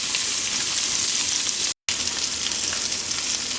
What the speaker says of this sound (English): So the ginger and the garlic have been in here sauteing around right around 4 or 5 minutes.